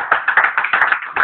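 A church congregation claps in quick, fairly regular rhythm to acclaim the Lord, loud and close, with a few uneven beats and no voices.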